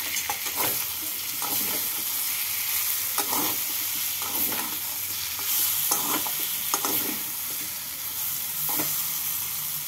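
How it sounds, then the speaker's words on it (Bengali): Sugar being stirred into fried chhana curry in a pan, a continuous loud sizzle broken by repeated scraping strokes of a spoon against the pan at an uneven rhythm, close up. "চিনি দিয়ে ভালো করে মিশিয়ে নেব।"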